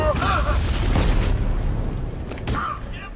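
Deep booming explosions rumble in Batman: Arkham Knight, heavy low-end blasts layered under a narrator's voice, with a sharper burst partway through.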